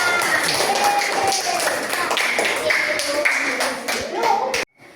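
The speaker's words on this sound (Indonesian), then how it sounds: "Tepuk tangan." Children in a Hindu religious education classroom clap their hands together after a presentation, a lively burst of close, sharp claps with young voices chattering over them, cutting off abruptly at the end.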